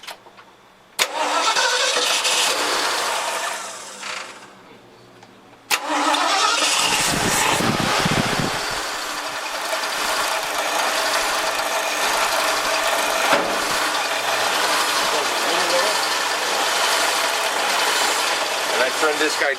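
A carbureted Ford F-100 pickup engine cranks and catches, then settles into a loud, steady idle close to the microphone after a brief dip and restart.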